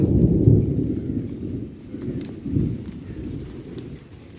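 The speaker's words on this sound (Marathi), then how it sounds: "गडगडता परत एकदा" Thunder rumbles over the Konkan countryside near Dodamarg in pre-monsoon weather, a deep, rolling growl that swells and fades in waves, with a soft patter of rain underneath.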